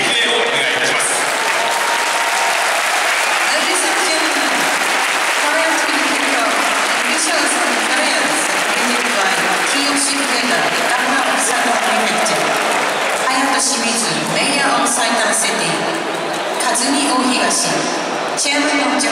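A stadium crowd applauds the players before a Urawa Reds versus Arsenal FC football match at the Saitama City Cup 2013, a sustained roar of clapping and crowd noise under a public-address announcement.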